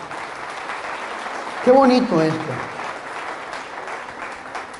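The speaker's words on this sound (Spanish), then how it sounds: "Dale este fuerte aplauso" A church congregation applauds loudly through the whole stretch, a steady wash of clapping in a large room. A voice speaks briefly over it about halfway through.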